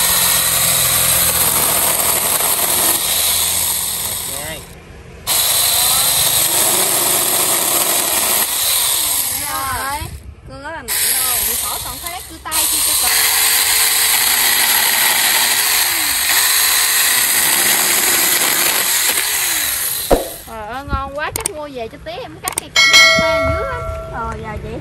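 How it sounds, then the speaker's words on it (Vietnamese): A small power saw for trimming ornamental plants and little branches runs close by, idling and revving through several cutting bursts, broken by short pauses, with people chatting over it. "Cây cưa này thì để dành cưa cảnh, cưa mấy cái cây nhỏ nhỏ."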